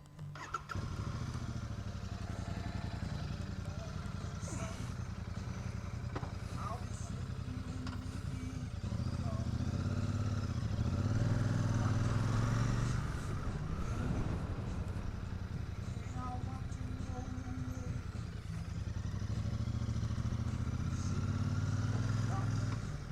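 A Royal Enfield Super Meteor 650 cruises behind the Wales Millennium Centre, its steady low engine drone swelling as it accelerates midway, with wind noise and light clatter picked up by an action camera.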